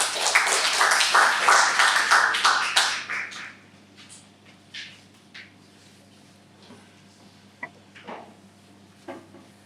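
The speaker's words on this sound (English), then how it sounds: "please help me welcome with a big round of applause Toastmaster Norman Nicholas" Members at a Dubai Toastmasters Club meeting applaud to welcome a Toastmaster. A full burst of clapping lasts about three seconds, then drops to quiet room tone with a few scattered taps and knocks.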